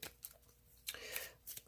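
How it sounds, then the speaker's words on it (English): Sprawlopolis game cards being shuffled, a few quiet, brief riffling bursts separated by short pauses, close by and with no talking. "So you'll shuffle these up"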